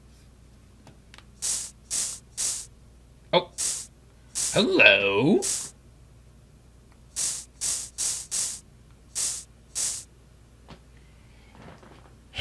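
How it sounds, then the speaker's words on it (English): Repeated short hiss-like spray bursts from a forensic spray tool in the Phoenix Wright: Ace Attorney investigation game, evenly spaced and fairly loud, with a brief electronic tone and a short exclamation between bursts. "I need to kind of spray around to see if I can find anything"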